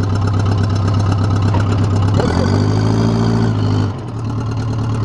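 An engine runs loud and steady with its muffler off while pulling against a tree, a raw, close drone whose pitch shifts partway through and then drops slightly near the end.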